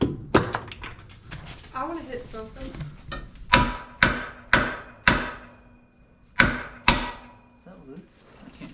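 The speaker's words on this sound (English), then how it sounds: "Hammer." Hammer striking metal car parts while bagging the rear of a Datsun 620, a run of about eight sharp ringing blows in an uneven rhythm, loud and close, with brief talk before the strikes.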